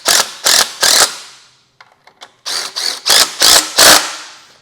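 A ratchet tightens 14mm bolts on Kia/Hyundai V6 rocker covers, close and loud, in quick bursts of clicking strokes, three at first, a few faint clicks, then five more in a row.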